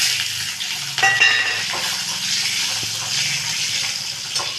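Green chillies hit hot oil already holding bay leaf, cumin and whole garam masala, raising a steady bright sizzle with a sharp crackle near the start and light stirring clatter throughout.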